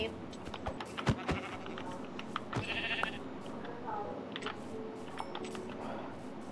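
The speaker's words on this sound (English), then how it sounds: "I found a sheep." Sheep in the video game Minecraft bleat several times, mixed with game sounds, while a player talks over them.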